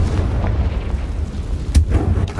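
Confringo, a fire-blast spell in Hogwarts Legacy, explodes with a heavy low rumble and one sharp, loud blast near the middle, against a dense booming background.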